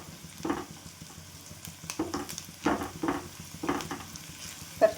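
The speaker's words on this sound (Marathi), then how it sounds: "तर छान कांदा आपण परतून घ्यायचा." Onions sizzle softly in a pan for harbara leaf sabji, with repeated bursts of stirring and scraping every half second or so over a low, steady frying hiss, heard close and fairly quiet.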